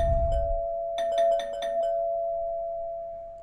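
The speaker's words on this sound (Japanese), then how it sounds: "玄関のチャイムが鳴った。" Doorbell chime from the video game 428: Shibuya Scramble: a quick run of bright, ringing chime notes over a steady sustained tone, clear and alone with no talk.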